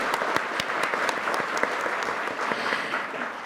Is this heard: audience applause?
yes